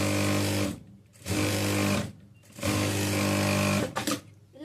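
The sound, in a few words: sewing machine double-stitching a frock nighty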